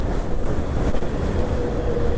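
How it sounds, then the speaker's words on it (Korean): Strong wind gusting in Texas, buffeting the microphone with a loud, rough low roar that persists for the whole clip without any voices. "바람이 진짜 많이 불어요 지금."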